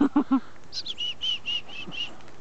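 Several chickadees call at a feeding spot in Glenmore Park, Calgary, a series of clear, high whistled notes and short chips, preceded by three low knocking thumps, fairly close and moderately loud.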